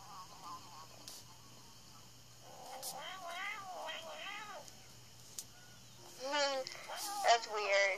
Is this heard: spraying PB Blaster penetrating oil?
no